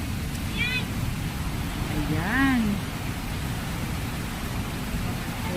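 Water from a waterfall at Lake Sebu, South Cotabato, rushes and splashes as a loud, continuous broadband roar, with a person briefly speaking over it.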